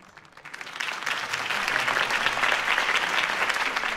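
Crowd applause in the Batman Telltale video game, a dense steady clapping from a large audience that swells in over the first half second and then holds loud and continuous, with no talking.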